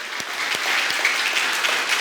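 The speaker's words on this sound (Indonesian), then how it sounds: "Kita tepuk tangan dulu buat Tuhan Yesus." A church congregation breaks into dense, steady applause for Jesus, many hands clapping together in a reverberant hall, with no voices on top.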